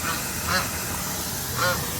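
Two short duck quacks ring out a second apart over steady outdoor background noise.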